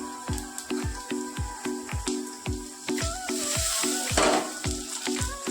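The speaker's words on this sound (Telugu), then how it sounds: "ఇలా లైట్ అండ్ గోల్డెన్ కలర్ వచ్చినాక కాకరకాయలు వేసేసుకోవాలి." Bitter gourd pieces frying in hot oil, a steady close sizzle broken by regular rhythmic scraping strokes of a spatula against the pan, with a brief louder hiss near the end.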